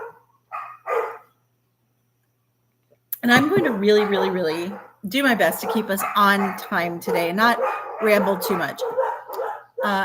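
Poodles barking next door in short yips at the start, then someone talks steadily while the dogs keep barking underneath her voice.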